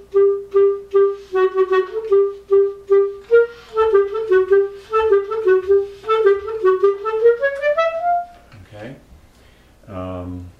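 A clarinet plays a brisk passage from the Mendelssohn Scherzo with single-tongued notes and soft breathy "hoo" air attacks, a steady repeated note climbing into a rising run, close and clear, then a short pause and a brief final phrase.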